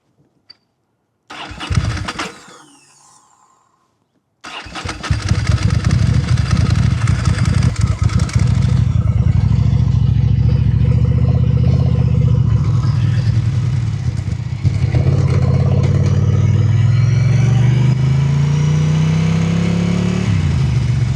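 A Ducati motorcycle engine cranks briefly, pauses, then fires up and settles into a loud, steady close idle with a rising rev near the end, no voices.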